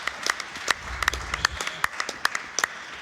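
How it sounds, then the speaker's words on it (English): Scattered applause from a live speedrun marathon audience during a Resident Evil Remake run, sparse distinct claps spread over a few seconds, fairly faint. "Another clap."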